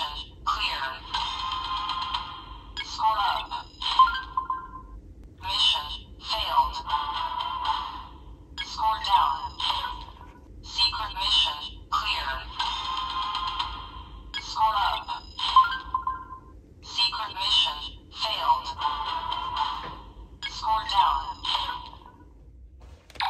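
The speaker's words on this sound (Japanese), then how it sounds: "スマホモードにしてる時に着信音が定期的にな" DX Spider Phone toy from Kamen Rider Geats in smartphone mode plays a ringtone of repeated electronic bursts with short gaps, close and clear, sounding on and off over about twenty seconds.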